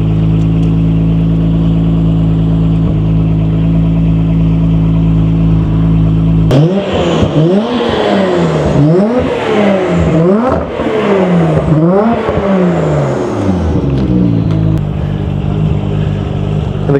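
A Nissan Skyline R33 GTR engine idles with a low steady hum, then revs up repeatedly in rising and falling surges, loud and close, with no voices.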